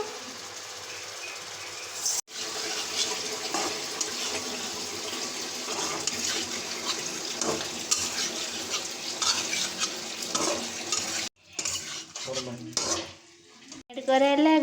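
Chicken pieces with chilli and tomato sizzle and get stirred in a hot pan, a dense steady frying hiss with scraping, broken by a brief pause and a few louder clatters near the end.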